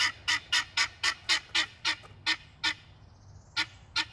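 A male bird with wattles and a hood gives a steady series of about a dozen loud, evenly spaced one-syllable calls, close by, with no talking.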